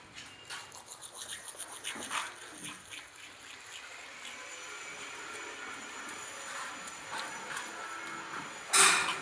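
Dried onion pieces are rubbed and crumbled by hand, giving a faint, scratchy rustle that comes in short bursts and then turns steady. There is a sharper crackle near the end.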